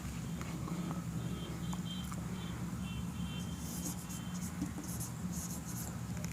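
A teacher writes a question on a board, continuous close scratchy strokes with short rhythmic taps over a steady low hum, no talking.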